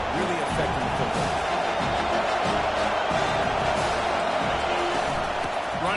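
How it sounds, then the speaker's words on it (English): A home crowd at a football game roars continuously as a dense, loud wall of cheering noise, with a commentator's voice running underneath. "how nice is it to have the home crowd going absolutely bananas?"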